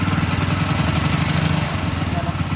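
A Hero Honda Passion Plus motorcycle engine idles after a full repair, with a steady, rumbling low putter, close by and continuous throughout.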